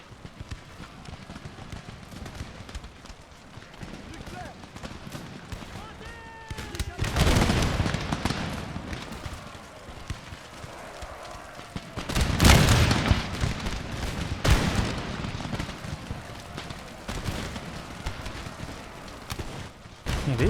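Infantry in Empire Total War open fire in a battle at Tbilisi, with rolling bursts of musketry and louder volleys around the middle, amid distant battle noise and a speaking voice.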